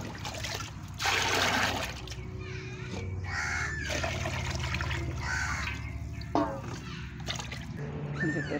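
Water is poured from one vessel into another, giving trickling, splashing runs in several bursts, with crows cawing outdoors and a voice talking in between.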